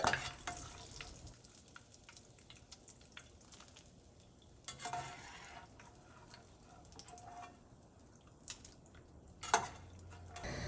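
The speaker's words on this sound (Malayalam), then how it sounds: "ഇതുപോലെ ബാക്കിയുള്ള പപ്പടവും ക്രിസ്പി ആയിട്ട് വറുത്തെടുക്കുക." Pappadam pieces fry in hot oil in a pan with a soft, continuous sizzle, broken by a few sharper clicks and scrapes from stirring.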